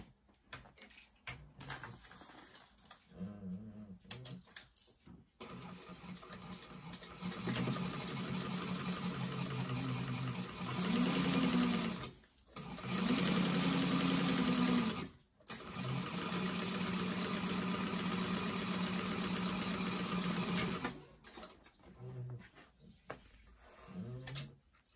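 Sewing machine stitching a quarter-inch seam across a handmade bag, running in several steady bursts of a few seconds each with brief pauses between them, close and fairly loud, no talking.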